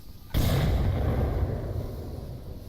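Frag grenades detonate in the VR shooter Onward during a competitive match, a sudden loud boom followed by a long rumbling, crackling decay with no talk.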